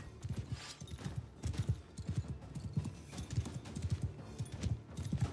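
Galloping horse hooves from Mount & Blade 2: Bannerlord, a steady rhythmic clip-clop of many beats running throughout, fairly close and continuous.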